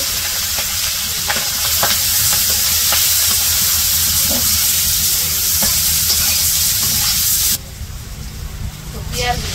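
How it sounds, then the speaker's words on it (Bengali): Onions and green chilies sizzle loudly in hot oil for fish bhuna after the fish has been fried. Stirring runs throughout, and the hiss drops sharply near the end. "তো পেঁয়াজ কাঁচা মরিচ দিয়ে দিল"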